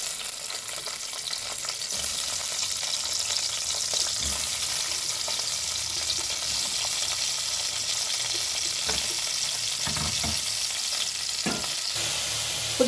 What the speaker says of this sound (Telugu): ఇప్పుడు దొండకాయలు ఫ్రై చేసుకుందాం.